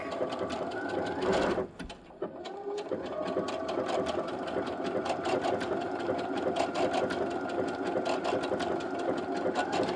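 A home sewing machine runs steadily through a mock overcast stitch along a fabric edge, its needle clatter a dense, even rhythm close by that briefly pauses and restarts before settling into continuous stitching.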